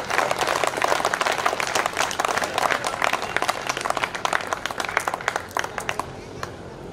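A large audience at a Hindi poetry recital breaks into sustained, dense applause, many hands clapping together loudly and steadily before thinning out near the end.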